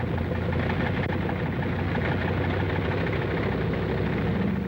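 A steady, loud drone of WWII bomber engines warming up before dawn on an airfield flanked by mountains in the Aleutian Islands, continuous and rumbling without a break.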